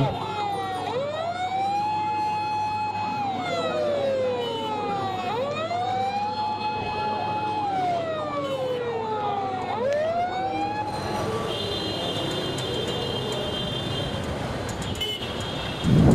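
An ambulance siren wails along a street near Chittagong Medical, rising and falling in slow, repeating cycles over traffic noise, then shifts to a harsher, steadier tone for the last few seconds.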